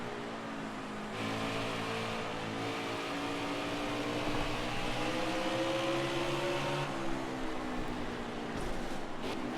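A pack of 1998-era NASCAR stock car engines in the NASCAR Heat 5 racing game drones steadily at Bristol, with layered tones rising and shifting as cars accelerate, loud and continuous with no talk.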